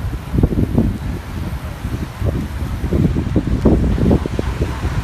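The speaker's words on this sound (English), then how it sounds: "right now it's fairly windy, you can probably hear." Steady gusting wind buffeting the microphone outdoors on a cycling race course in Stockholm, a continuous low rumble with fluttering bursts and no voices.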